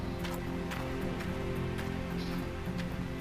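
Steady rain falls in the video game Gold Rush, a dense, even hiss of drops spattering on surfaces, close and continuous throughout, with no talk.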